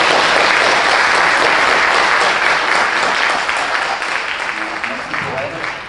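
An audience in a school cinema event in Bobigny bursts into sustained, loud applause that gradually tapers off toward the end.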